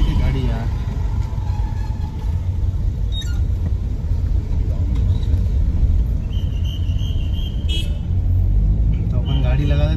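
A car climbs the road up Nandi Hills near Bangalore, its engine and tyres producing a steady, loud, close rumble throughout, with faint chatter and high insect-like chirps in the background.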